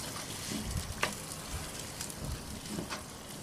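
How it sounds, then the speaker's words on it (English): A spoon scrapes the bottom of a pan of simmering gravy for chicken pot pie on a Green Egg grill, making faint, rhythmic strokes roughly every second over a soft sizzle. "And you notice me scraping. And that's to get the flavor that is stuck to the bottom of the pan"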